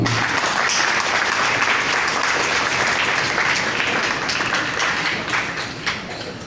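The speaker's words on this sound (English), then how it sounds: "Please give them a round of applause." An audience at a high school graduation day applauds the team of teachers, dense steady clapping holding loud and even for several seconds before tapering slightly at the end.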